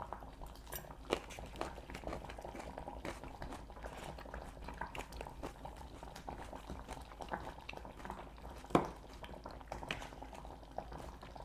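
Champorado bubbling in a pot as a breakfast porridge cooks, a steady close boil with soft popping bubbles and a few sharper clinks, with no talk.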